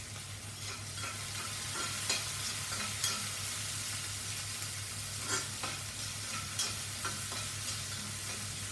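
Onion and spices frying in oil for a bitter gourd recipe give a continuous low sizzle with periodic spoon scrapes and taps against the pan, quiet and close, no voices.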